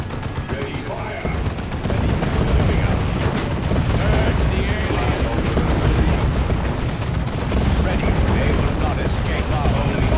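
Space Marines fight Tyranids in Dawn of War 2 with continuous heavy gunfire: dense machine-gun bursts and booming blasts roar nonstop through a massive battle, with voices partly buried beneath the noise.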